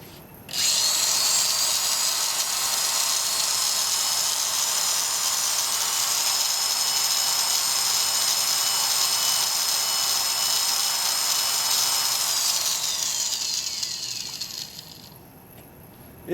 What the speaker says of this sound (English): So if I take this electric drill here and plug it into the inverter